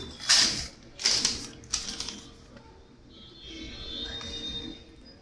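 Thermal label printer printing a variable-length receipt, short bursts of mechanical whirring and clicks in the first two seconds, then a softer steady hum, close by.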